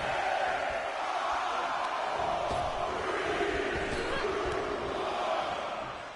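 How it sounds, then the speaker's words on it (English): Wrestling arena crowd in WWE 2K26 roaring and chanting in unison, a dense continuous wall of voices that swells and holds at a steady loud level. "The crowd is counting it down."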